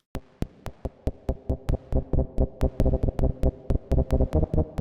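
A synthesizer note retriggered in a steady rapid rhythm, each hit starting sharply and fading quickly, growing fuller and more sustained as the decay is turned up.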